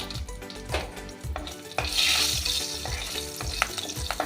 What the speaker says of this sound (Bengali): এবার এই তেলে দিয়ে দেবো একটা ফোড়ন, কালো জিরে আর কাঁচা লঙ্কা।